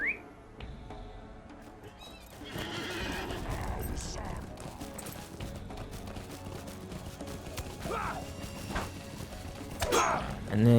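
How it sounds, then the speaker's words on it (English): A horse in the game LOTRO, ridden near the Anduin in Mirkwood, gives a high whinny, then hooves clop steadily under ambient music and chirps, with a second neigh near the end. "let me get on my horse"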